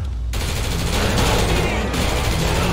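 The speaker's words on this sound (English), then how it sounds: "No, right, they shot LAMAR." Dense, continuous automatic gunfire rattles without pause in the video game GTA 5, loud and close, with faint speech buried underneath.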